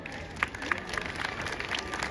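Audience applause fills a hall at the Hyderabad Numaish exhibition, a steady, fairly faint wash of many hands clapping with a few sharper individual claps standing out.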